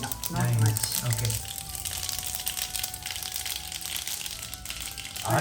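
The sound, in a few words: mustard seeds sizzling in ghee and oil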